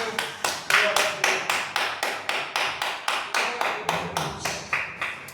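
Church congregation clapping hands together in a steady rhythm, loud and close, roughly a dozen even beats alone with no talk.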